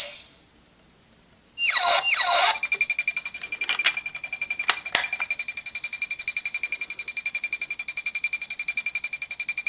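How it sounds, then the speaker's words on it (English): B-Commander toy from Juukou B-Fighter plays its electronic transformation sound: a short beep, a pause, two warbling chirps, a few sharp clicks, then a loud steady pulsing alarm-like tone that continues to the end. "they all use the same transformation sound"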